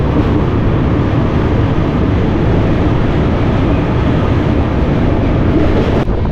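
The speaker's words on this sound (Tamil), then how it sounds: "இன்னொரு ட்ரெயின் வந்து கிராஸ் ஆகி போயிட்டு இருக்கு." A passing train sends a steady, loud, broadband rumble and rush past for several seconds, close and continuous before cutting off near the end, with no talk.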